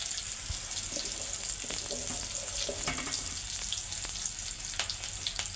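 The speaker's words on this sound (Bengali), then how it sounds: "একে একে আমি সবগুলো এভাবে ভেজে নিচ্ছি।" Onion snacks fry in oil, giving a constant fizzing sizzle with scattered light pops and clicks, moderately loud and without talk.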